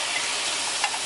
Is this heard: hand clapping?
no